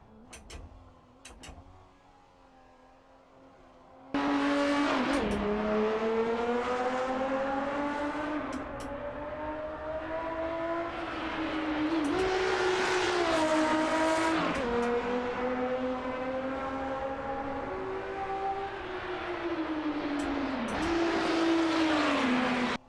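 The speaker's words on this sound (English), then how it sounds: "Let's respect the 42-year-old race car." A 42-year-old BMW M1 Procar race car in the Assetto Corsa racing sim starts up after a few seconds of quiet, then holds a loud, steady engine note that rises and falls through repeated gear shifts and revving for the rest of the run.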